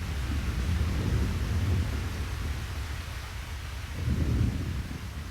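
Steady rain hiss with deep rolling thunder in an animated anime episode, the low rumble swelling at the start and again near the end, with no voices.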